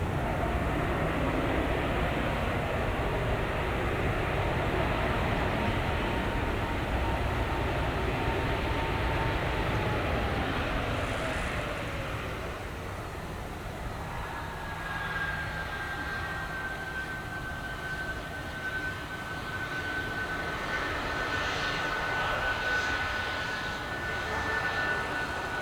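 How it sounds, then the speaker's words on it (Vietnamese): A Scoot Airbus A320/321 lands on runway 25R at Tan Son Nhat, a steady loud jet engine roar that holds throughout, with a falling whine and then a high sustained tone near the end. "bây giờ chiếc máy bay đang nhanh chóng hạ cánh xuống đường băng 25 phải"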